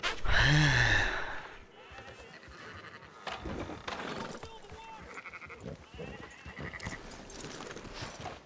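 A sheep in Red Dead Redemption 2 gives a loud bleat at the start, followed by quieter game ambience with hoof clops and a horse nearby.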